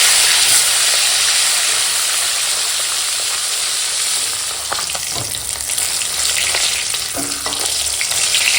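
Rohu fish pieces rubbed with turmeric and salt fry in hot oil, a dense, steady sizzle and crackle close by, with a few brief utensil clinks later on.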